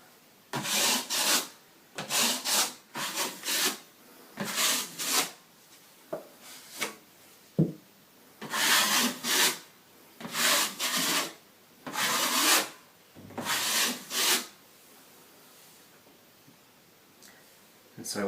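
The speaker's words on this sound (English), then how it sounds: "the larger blade will let you do your final spread over it in a much smoother fashion" Filler being spread with a large blade over a patched hole in plasterboard, a series of short scraping strokes with brief pauses between them, close and clear.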